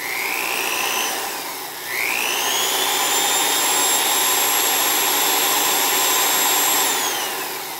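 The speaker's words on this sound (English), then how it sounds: "I'm going to run this drill and forward." An electric drill runs forward with a loud, high motor whine that dips, spins back up, holds steady for several seconds, then winds down near the end, with no voices.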